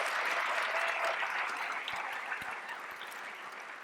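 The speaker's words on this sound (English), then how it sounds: "Let's give her another round of applause." Audience applause at a university presidential inauguration ceremony at Lewis & Clark, a broad wash of clapping from a large crowd that slowly tapers off, heard at a distance.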